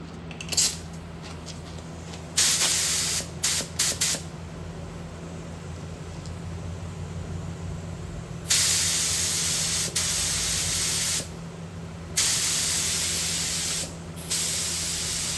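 A spray gun lays base coat paint onto a car during dent and scratch repair, its hissing bursts starting and stopping in several passes of a few seconds each, close and fairly loud over a low background hum.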